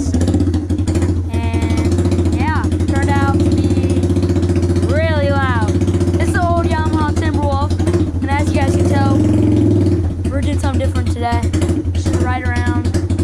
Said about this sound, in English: definitely sounds like a Harley, because muffler's rusting, so I decided to take it off